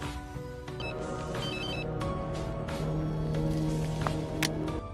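A telephone rings during a tense scene in the horror film Saw V, its bell-like tones repeating over a dense bed of low music and ambient noise.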